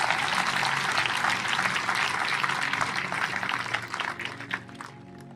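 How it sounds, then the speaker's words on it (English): Audience round of applause, a steady wash of clapping that swells and then thins out toward the end. "So I think that really deserves a round of applause"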